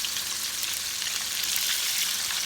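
Chicken frying in oil over medium heat, a steady, dense sizzle and crackle that holds evenly throughout, close and alone without voices.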